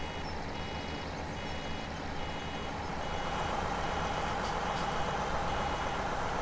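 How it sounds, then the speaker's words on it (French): Brake hisses from a farm vehicle in the Farming Simulator 17 video game, a few short releases rising over a steady, loud engine drone with faint reversing beeps. "on entend bien les coups de frein"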